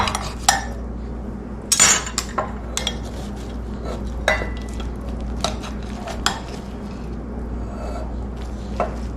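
Baked eggs stuck to the bottom of an ungreased baking pan being scraped with a utensil, giving repeated metallic scrapes and clinks in irregular bursts over a steady low background hum.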